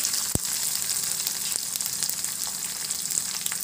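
Garlic, green chilies and curry leaves fry in hot oil for a Maharashtrian dahi kadhi, giving a steady close sizzle with one sharp click near the start.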